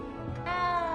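A cat in Hogwarts Legacy lets out a single short, close meow that rises in pitch and sits over a faint background hum.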